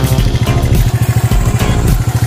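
A restored original motorcycle with modified double-signal switches idles loudly up close, its engine thumping in a steady, fast, even pulse with slight mechanical clatter, no talk.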